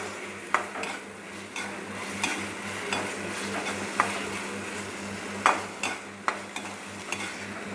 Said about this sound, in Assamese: মোৰ কচু ঠাৰি বুটেৰে ফ্ৰাই কৰা হৈ গ'ল